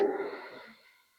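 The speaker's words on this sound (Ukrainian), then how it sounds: "На вдих, розштовхуй ребра в сторони. І на видих." A single deep breath drawn into the ribs during a diaphragm breathing exercise, an airy inhale followed by a softer, fading exhale, close and quiet with no other sounds.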